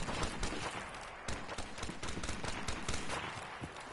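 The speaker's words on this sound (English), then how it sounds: "I mean, I'm shooting people." Rapid, fairly quiet gunfire in Modern Warfare Remastered, a busy stream of overlapping shots and bursts mixed into dense game noise without a clear pause.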